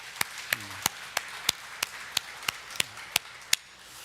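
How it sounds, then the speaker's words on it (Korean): Sharp, evenly spaced claps ring out about three times a second during a church Sunday worship service, roughly a dozen in a steady beat. They are fairly quiet, with a faint voice briefly underneath. "우리 한번 박수로 한번 축복합시다"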